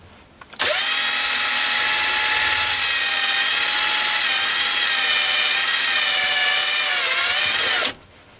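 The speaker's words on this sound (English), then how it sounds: "I'm just using my battery drill" A cordless drill whirs loudly and steadily for several seconds with a high whine, then cuts off abruptly.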